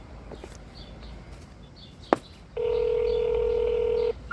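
Telephone call transfer sounds: a sharp click, then a steady electronic dialing tone held for about a second and a half over a quiet line.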